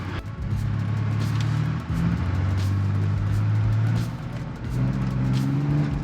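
A 2022 Ford Bronco Raptor drives on a beach, its engine droning loud and close with rising pitch as it accelerates, a brief dip at a shift, then pulling again steadily.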